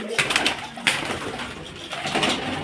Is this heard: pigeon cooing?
yes